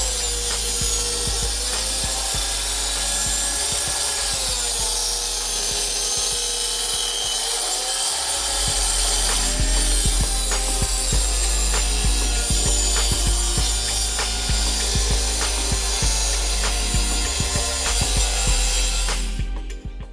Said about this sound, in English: After making my larger cuts using the table saw